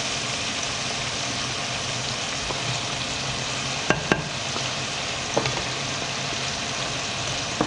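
Ox tripe cooking over medium-high heat in a pan for Filipino callos, a continuous even sizzle with a low rumble underneath and a couple of sharp utensil knocks.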